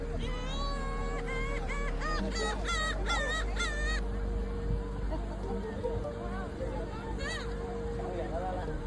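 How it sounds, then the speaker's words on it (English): Seagull calls: repeated, rising, wavering cries in close bursts over a constant hum and distant background babble, then a single later cry at a distance. "Next is seagull."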